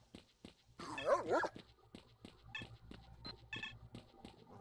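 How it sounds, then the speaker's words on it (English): Dogs barking in the game S.T.A.L.K.E.R.: Shadow of Chernobyl, a loud burst of overlapping barks early on followed by scattered sharper yips and a few faint barks over low ambient noise. "Hey guys, you want to kill those dogs?"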